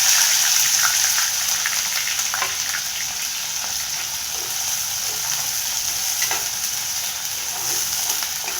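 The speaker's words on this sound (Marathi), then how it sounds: "आपल्याला प्रथम टाकायचं आहे आपण जे कांद्याची पाच घेतलेली ती टाकायची बघा" Spring onions frying in hot oil in a wok, a dense steady sizzle with intermittent stirring scrapes, loud and close, easing slightly after the first second.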